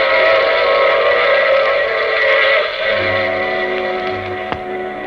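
A train sound effect from an old radio drama: a loud, steady rumble of rolling railroad cars with a sustained whistle-like tone over it, then a lower clattering rhythm and a sharp brief click near the end.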